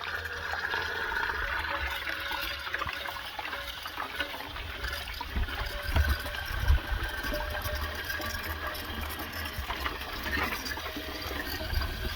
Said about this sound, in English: then I'm going to fill this up with water